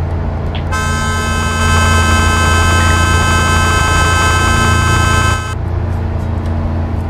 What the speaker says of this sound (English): I'm gonna give you a big old fat honk for that.